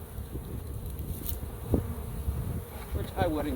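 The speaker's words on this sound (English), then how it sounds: "They're exploring every inch of their hive" Honeybees newly installed in a hive buzz in a soft, steady hum close by, with a few louder individual bees droning past over the faint background.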